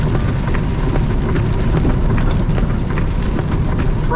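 Steady heavy rain drums on a truck while driving, a dense continuous wash of sound with a low rumble underneath, loud and unbroken throughout.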